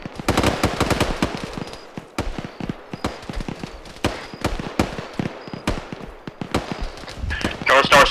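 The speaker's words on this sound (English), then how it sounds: "Northeast, tracer fire coming up." Rapid bursts of automatic gunfire and rifle shots in ArmA 3 combat, a dense crackling volley of sharp close reports running throughout, with a louder burst near the end.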